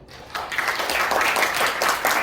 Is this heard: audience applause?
yes